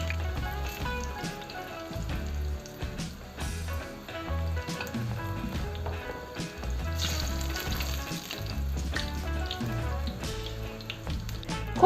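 Eggplant slices fry in oil with a crackling, bubbling sizzle and irregular pops and spatters, moderately loud and continuous, with no one speaking.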